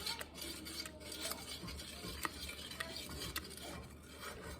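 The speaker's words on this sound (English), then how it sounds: "Then I'm going to kind of whisk it around." Banana pudding mixture is whisked around a bowl, reaching into the corners, giving soft, continuous scraping and rubbing strokes that stay quiet and close with no talking.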